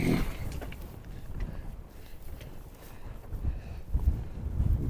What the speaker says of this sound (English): got some wind up here